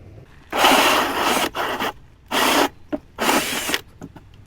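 A Ryobi drill bores a hole through a plastic bucket for a homemade swamp cooler, giving four loud, close bursts of whirring and grinding separated by short pauses, with a few faint clicks and rattles afterward.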